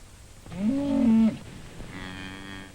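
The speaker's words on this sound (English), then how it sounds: "I was out there with Eddie at the crack of dawn, chasing cows or whatever else needed doing." A cow on a 1950s American farm gives one loud, drawn-out moo lasting under a second, followed by a fainter, higher call, with no talk.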